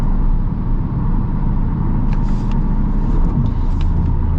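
A 2026 Subaru WRX flat-four engine with manual transmission hums in a steady low drone from inside the cabin, holding a constant pitch with a faint hiss rising briefly midway.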